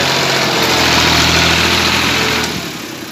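A tractor engine runs loud and close in a steady, droning idle with a strong low hum, then eases off slightly near the end.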